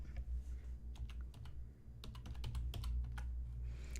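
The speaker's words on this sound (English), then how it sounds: "I'll type it in the chat." Rapid bursts of typing on a computer keyboard, with clustered key clicks, brief pauses and a low background hum, heard close and alone without speech.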